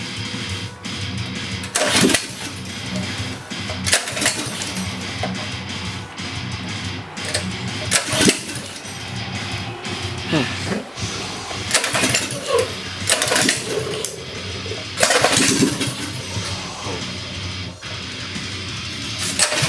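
A Mini Hog mini bike engine starts and then runs steadily in a loud, continuous rasp, broken by several sharp revving bursts over about twenty seconds.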